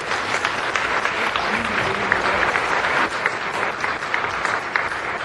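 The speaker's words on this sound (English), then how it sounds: "Let's give them a big round of applause." At a city council meeting, an audience applauds honorary consuls with a loud, continuous burst of clapping from the chamber crowd, with a few faint voices underneath.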